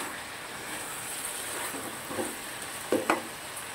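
Mixed vegetables with sugar and salt being stir-fried in a pan, a soft steady sizzle with a few louder clinks of a stirring spoon near the end.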